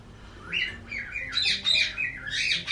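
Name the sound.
birds squawking and calling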